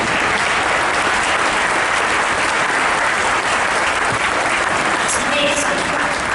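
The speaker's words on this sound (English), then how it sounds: "Clap for yourselves." Graduates at the Misericordia 2022 winter commencement clap for themselves in loud, continuous, densely layered applause that stays level throughout.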